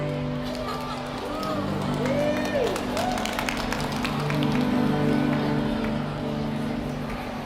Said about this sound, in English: So if you'd like to stand up and clap and dance with us, we'd love to have you do that